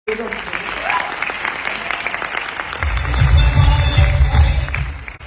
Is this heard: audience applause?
yes